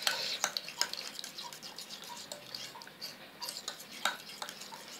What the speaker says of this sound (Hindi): फेंट लें अच्छी तरीके से ताकि दही और बाथू अच्छे से मिक्स हो जाए हमारा।